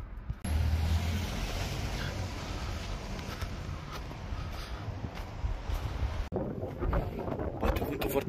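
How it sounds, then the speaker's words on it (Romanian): Strong wind blows into the microphone outdoors in snow in Kopervik, Norway, a loud, steady roaring rumble that drops out briefly near the end, with no talking. "Da, bate vântul foarte tare acum"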